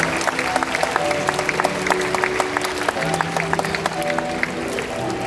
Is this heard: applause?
yes